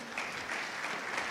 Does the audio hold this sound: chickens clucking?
no